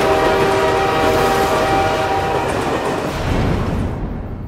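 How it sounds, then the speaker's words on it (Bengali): A train approaches with its horn blaring loud and close, a sustained tonal blast over a heavy rolling rumble of the rail cars that fades slightly toward the end. "আরে ট্রেন আসছে যে, ট্রেন আসছে"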